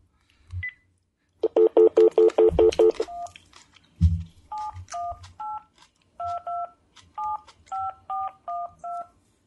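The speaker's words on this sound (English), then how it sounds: "Just dial any number." A telephone keypad being dialed: a rapid run of about eight DTMF tones in a steady burst, a short pause, then a slower series of separate beeps, all loud and close with no talking.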